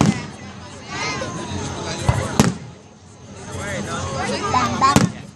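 Fireworks being lit and set off at Tom Brown Park in Tallahassee, Florida: sharp, loud bangs at intervals over a busy outdoor crowd with steady chatter and talking throughout.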